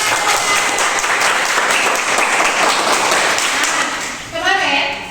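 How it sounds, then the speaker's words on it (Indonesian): Classroom applause from a group of students, a dense, loud burst of clapping that fills most of the clip before tapering off as a voice begins speaking near the end. "Oke, tepuk tangan."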